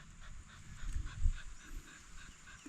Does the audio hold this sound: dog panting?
yes